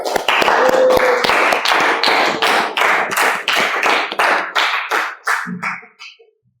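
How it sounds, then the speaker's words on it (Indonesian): A school audience claps together in a fast, steady rhythm, loud and close, before the clapping tapers off and stops near the end. "Tepuk tangan buat semuanya"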